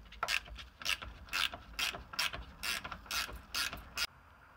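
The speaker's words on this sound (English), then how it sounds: "Grab a 9/16 wrench and remove the nut." A 9/16 wrench ratchets a toilet's floor bolt nut loose, giving a run of about a dozen crisp, close clicking strokes in an irregular rhythm, with no talking.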